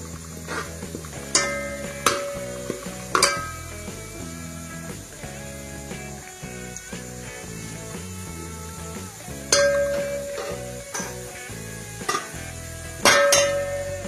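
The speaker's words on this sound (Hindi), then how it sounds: "अब मैं इसमें थोड़ा सा पानी डालूंगी।" Water poured into a pan of browned onions, giving a soft steady sizzle under repeated sharp clinks and scrapes of a metal spoon stirring against the pan, with some background music.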